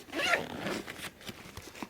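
The zipper on the front pocket of a Maxpedition Mongo bag is pulled open in one quick, close rasping stroke, followed by a few softer fabric rustles.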